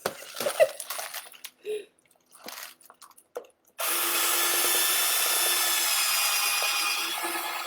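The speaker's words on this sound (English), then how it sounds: "Oh, look at that, drill real easy right through there." A power drill boring through wood for a sugar glider pet carrier toy build; after a few quiet knocks and rustles, the drill starts abruptly and whirs steadily and fairly loud to the end.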